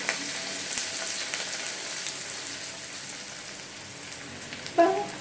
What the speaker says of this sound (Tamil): புதினா சேருங்க கொஞ்சம் நேரம் வதங்கட்டும்